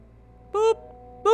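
A cell phone in a horror video game being dialed, two short electronic tone beeps separated by a pause, clean and close over a quiet background hum.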